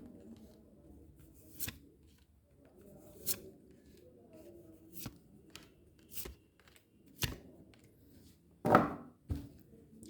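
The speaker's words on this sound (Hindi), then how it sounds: "मुझे ज़्यादा से ज़्यादा शफल करने की ज़रूरत है" Tarot cards being shuffled in short bursts, a series of quick riffling swishes spaced a second or two apart, close and fairly quiet with no talk.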